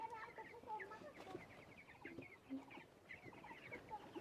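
Several chickens cluck softly and intermittently at feeding time, faint and a little distant, with scattered short calls overlapping throughout.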